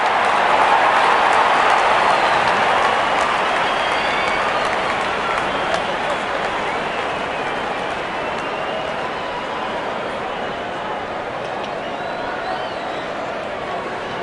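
Dense, sustained crowd roar and applause in a Real Cricket video game stadium, a steady wash of cheering that slowly fades slightly, loud and continuous with no distinct voices.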